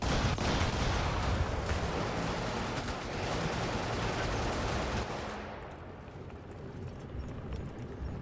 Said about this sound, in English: I don't like how big the gun is that was firing at me.